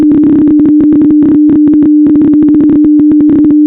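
Jagged digital communication signals played from a recording: a steady buzzing tone broken into rapid, irregular on-off bursts with stuttering gaps, loud and harsh throughout, with no voices.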